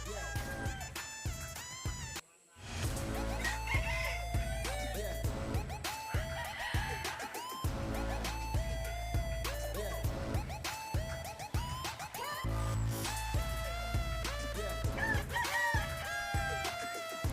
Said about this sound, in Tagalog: Silipin natin yung ating manok sa labas